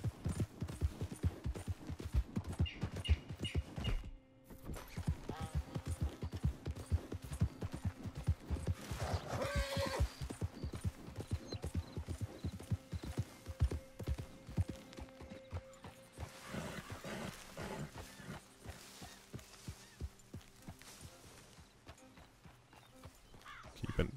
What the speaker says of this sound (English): this is where I find all the horses